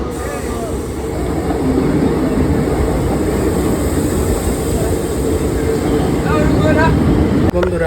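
Howrah Gaya Express rolling through a station, a loud, continuous rumble and rattle of the passing coaches that fills the whole stretch, with a sharp knock near the end.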